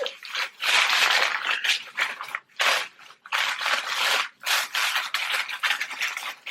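Wrapping paper and tissue around a Chanel luxury package are torn and crumpled in loud, close bursts of crinkling and rustling, with short gaps between handfuls.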